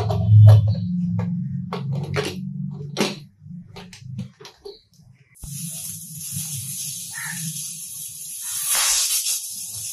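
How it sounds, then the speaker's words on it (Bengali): A pressure cooker on a gas stove lets out a loud, sustained hissing whistle of steam that starts suddenly and carries on steadily after some earlier clatter and low kitchen rumble. "একটা সিটি হলো, আরেকটা সিটি দিলে আমি গ্যাসটা অফ করে দেব।"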